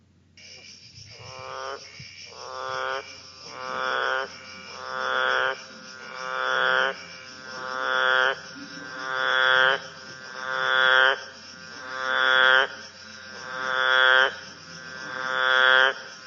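A Kimberley frog repeats its call, a rising, buzzy, harmonic croak that swells and fades about every one and a half seconds over a steady high insect-like drone. The recording is clear and close, with about ten evenly spaced calls.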